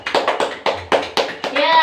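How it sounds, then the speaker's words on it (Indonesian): A seventh-grade Indonesian-language class claps in unison in a crisp, even rhythm of about seven sharp claps, nearby and fairly loud, with a voice rising at the end. "Tepuk tangan untuk Indri"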